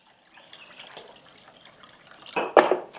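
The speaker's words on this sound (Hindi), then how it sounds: "यहाँ पे एक बॉल में सबसे पहले हमें पानी लेना है।" Room-temperature water is poured into a bowl for puran poli dough, a soft trickle building into a louder splashing burst near the end, close by with no talk.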